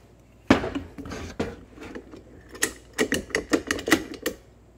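A swivel lock on an industrial caster clicking, with a few sharp metallic snaps followed by a quick run of close, crisp clicks and taps.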